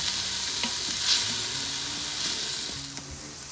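Ground meat for chili browns in a hot pan, giving a steady close sizzle with scraping stirs and light spoon knocks against the pan throughout.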